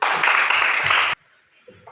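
A classroom of children in an Indonesian lesson clapping for group 1, a loud, brisk burst of many hands that cuts off abruptly after about a second, followed by quiet room noise and faint voices.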